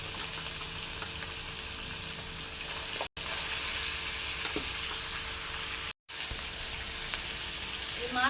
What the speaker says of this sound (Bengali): তো এখন এই মাছগুলো ভেজে নেব।